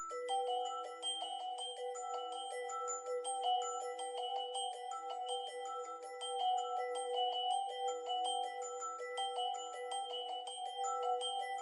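A reversed, glistening bell arpeggio from Keyscape Creative in Omnisphere shimmers steadily for the whole stretch as an ambient top line, with bright, dense tones and no voices.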